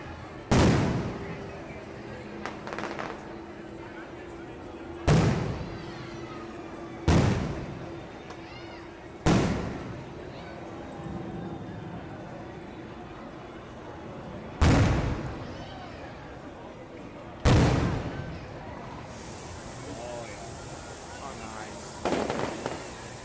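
Fireworks explode at a theme park near Toontown, sharp booms about every two to three seconds, fairly close and loud, with crowd murmur and talk between bursts.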